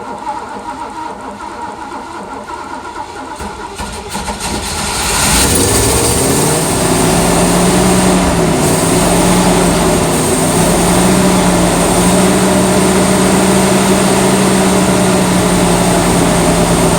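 An engine fueled with E10 ethanol gas cranks briefly, catches, and settles into a loud, steady running drone after a quiet lead-in, revving slightly up before holding constant.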